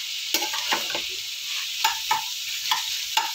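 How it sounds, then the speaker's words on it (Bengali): Vegetables frying in a pan for a lentil and vegetable dish, a bright steady sizzle with quick rhythmic spatula scrapes and taps, close up and with no voices. "এইরকম করে দেখুন আমার পুরো ভালো করে আমি জিনিসটা ভেজে নিচ্ছি।"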